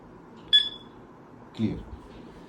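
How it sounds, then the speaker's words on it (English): A single short electronic beep from a Nextion HMI display project device, followed a second later by a brief dull clunk, against a quiet background. "That's why it's beeping."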